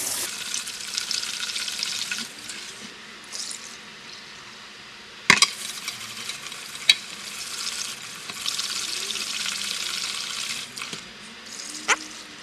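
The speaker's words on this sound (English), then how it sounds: "we begin sort of just mixing it up. And the goal is to mix it till the water runs clear." Dosa grains being swished and stirred by hand in a bowl of water to wash out the starch, a steady wet sloshing with a few sharper knocks against the bowl.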